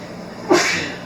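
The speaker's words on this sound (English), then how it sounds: "excuse me while I sneeze" A single sharp human sneeze bursting out abruptly midway, brief and fairly loud, against a quiet room hum with no speech.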